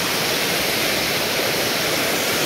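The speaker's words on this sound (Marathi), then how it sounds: "असा बारका धबधबा आहे" A small waterfall near Khopoli roars in a steady, dense rush of falling water, loud and close, with no break or change throughout.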